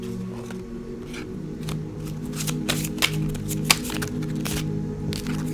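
Computer keyboard typing, quick irregular clicks and taps in bursts over a low steady hum, fairly close and moderately loud.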